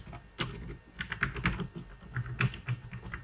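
Keys clatter on a computer keyboard as a MySQL drop database command is typed, an irregular run of close, quiet keystrokes with no voices.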